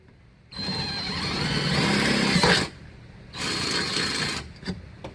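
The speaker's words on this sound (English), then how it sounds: "with the 5/16 drill bit, we're only going through the first hole, not the second" A power drill with a 5/16 inch bit whines loudly through metal in two bursts, a long run then a shorter one, with a brief pause between and small clicks after, while installing a car strut tower brace.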